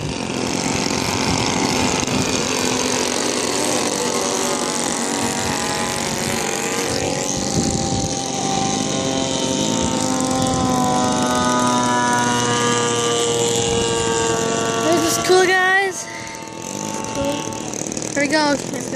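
A propeller warplane in a flight game revs its engine for takeoff, a droning tone whose pitch rises and shifts steadily while someone talks over it throughout.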